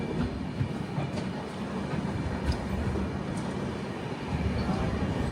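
Humsafar Express train pulling into Ambassa station in Dhalai district, Tripura, a steady broadband rumble and rattle of the moving coaches with faint clicks, no clear voices.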